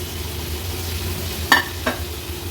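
Jitada fish going into hot oil with crushed ginger, garlic and turmeric masala, a steady soft sizzle with two sharper splashy crackles close by, no voices.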